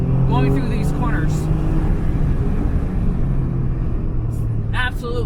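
Alfa Romeo Giulia Quadrifoglio sedan engine pulling hard under acceleration, a loud continuous rumbling drone close by, with someone talking over it.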